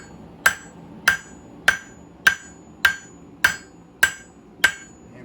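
A steel knife blank is hammered on an anvil: eight sharp ringing metallic strikes land at an even pace about half a second apart, each ending in a short ring, with no talk.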